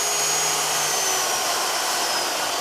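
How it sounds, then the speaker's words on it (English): Electric mixer running at high speed while beating thick cake batter, giving a steady, loud, continuous whirring drone with no breaks and no talking. "So I'm going to increase the speed now to high and then beat again for about 3 or 4 more minutes."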